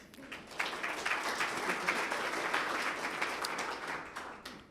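A room full of people at a city's annual state-of-the-city event breaks into steady, dense applause that carries on at an even level throughout.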